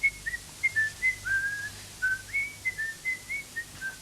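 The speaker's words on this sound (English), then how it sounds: "Toad himself was marching off, light-heartedly whistling a merry tune" Someone whistles a jaunty, merry tune, Toad from The Wind in the Willows: a run of short, lilting notes rising and falling, clear and fairly close, with no talk around it.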